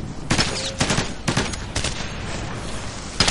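Automatic gunfire in the Ghost Recon Advanced Warfighter video game, several loud bursts of rapid shots with short gaps between them, close by and alone.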